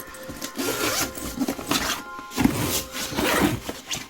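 A clothing zipper is worked open while sorting through Halloween decor from a Daiso haul, giving a series of close, rasping zip strokes that repeat in bursts over a few seconds with no talking.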